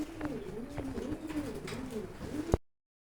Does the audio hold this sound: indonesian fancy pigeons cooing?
yes